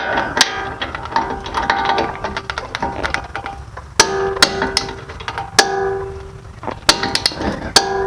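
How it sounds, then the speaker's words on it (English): Ratchet wrench tightening 19 mm front shock bolts on a Mazda CX-9, a run of close, loud mechanical clicks and sharp metallic ticks in uneven bursts. "grab the wrenches for that and go ahead and tighten them up"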